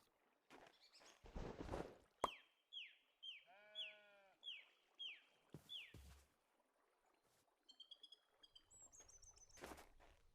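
Sheep bleating in a modded Minecraft video game, a run of repeated wavering bleats in quick succession, with clicks, thumps and other game effects scattered before and after, clear and fairly close.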